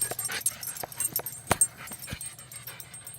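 A dog produces high, thin whistling whimpers, a few sharp squeaky bursts with pauses between them, close and fairly clear, with no talk over them.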